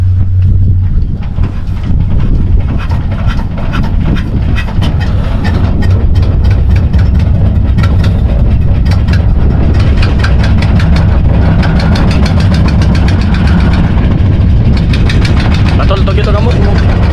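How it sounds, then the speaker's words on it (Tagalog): A loud, steady boat engine starts and idles throughout, rumbling low with rapid rhythmic clatter, while voices talk over it now and then. "Bubuhay na yung makina."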